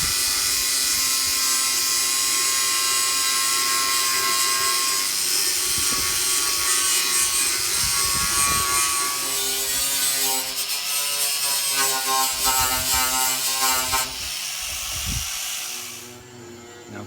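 A steady, harsh grinding rasp goes on for a long stretch as surface rust is ground off a campervan, close and loud, and its pitch shifts near the end before it stops.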